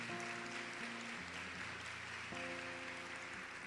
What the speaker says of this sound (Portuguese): Dá uma salva de palmas a Nossa Senhora.